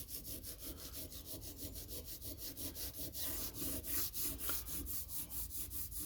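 Aluminium foil rubbed back and forth over pitted metal parts of a Honda XL125S motorcycle under restoration, a close, steady scratchy scrubbing with quick regular strokes throughout, no voices.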